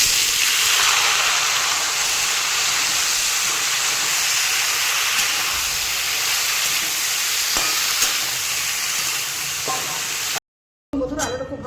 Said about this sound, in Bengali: গরম তেলে শুকনো লঙ্কার ফোড়নটা খুব ভালো মতো ভাজা হয়ে যাওয়ার পর লবণ হলুদ মাখিয়ে জল ধরে রাখা আলুগুলো এখানে দিয়ে দেবো